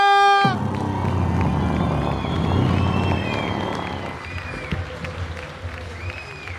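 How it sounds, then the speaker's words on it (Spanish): An audience applauds and cheers for a guest stepping onto a comedy show stage, a dense burst of clapping that swells and then gradually thins out, with a few voices heard over it. "Por favor, reciban con un aplauso y una bulla"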